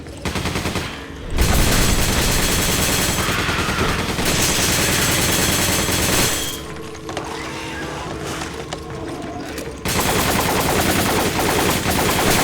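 Gunfire in the video game Resident Evil 5: long, dense bursts of rapid shots and mechanical clatter fill most of the stretch, loud and close, broken by a short pause early and a quieter patch in the middle.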